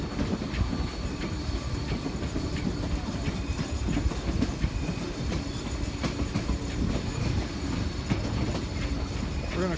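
A Cumbres & Toltec Scenic Railway train runs steadily on rails with constant rumbling wheel noise and clickety-clack, heard from on board with no talk.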